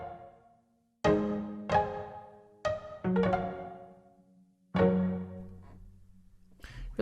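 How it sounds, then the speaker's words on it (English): Herman Samples Frozen Piano sample library played as sparse, sustained piano-like notes and chords, each struck attack followed by a long, smooth decay, about five separate phrases with gaps between them and no talking. "So frozen piano sounds like this."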